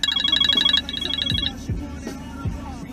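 A phone rings with a rapid electronic trill in two bursts, fairly loud and close, then stops, leaving a few low thumps and faint background noise.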